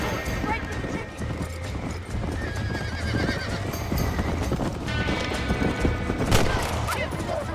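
Horse hooves clip-clop steadily through a Wild West game scene while a horse neighs, with gunfire, wind and ambient noise in the mix and a voice talking over much of it.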